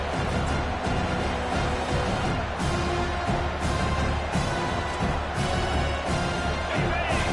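A packed stadium crowd at an American football game roars in a dense, continuous wall of noise that stays loud and steady from start to finish.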